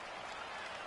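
A stadium crowd cheering and applauding in a Madden football video game, a dense, even roar of distant massed noise sustained without a break across the short moment.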